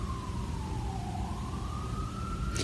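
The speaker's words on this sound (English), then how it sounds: "It's interesting, the sirens." A distant emergency vehicle siren wails steadily, its tone dipping and then rising again over a low traffic rumble. It stays fairly faint throughout, and no one speaks.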